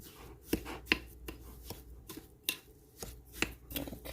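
Brown sugar and vanilla extract are stirred together by hand in a bowl as cinnamon roll filling, giving close, irregular sharp knocks and light scrapes with quiet gaps and no talking.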